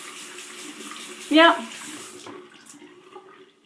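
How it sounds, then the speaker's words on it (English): An arm swirls through a large amount of running water, giving a short splashing burst over a quiet background of flowing water, with a brief spoken word. "you hear it running? It's my arm swirling around. Lots and lots and lots and lots of water."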